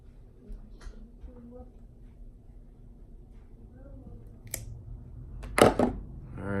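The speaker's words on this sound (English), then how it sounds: "Okay, so I'm just gonna cut it off." Someone snips off a fishing rod guide tip on a Shimano Sellus rod. One crisp, close cut stands out in a quiet room after soft handling noises.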